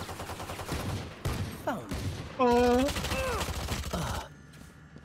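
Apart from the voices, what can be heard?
Frenzy pistol gunfire in video game Valorant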